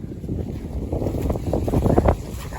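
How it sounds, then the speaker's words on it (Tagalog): Gusty wind rumbles across the microphone, a steady blustery roar with a few stronger buffets. "Malamig lang ang panahon ngayon. Naging mahangin."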